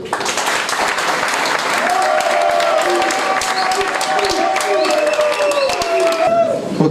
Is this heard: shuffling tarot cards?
no